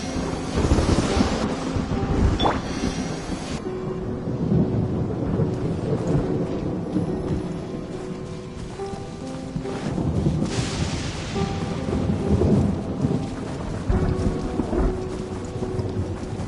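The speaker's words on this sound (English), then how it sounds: "Compared to the storms I've encountered out at sea, this is really quite tame." Steady rain and rolling thunder in the Genshin Impact video game world, continuous and enveloping, with rumbles swelling and fading and no talking.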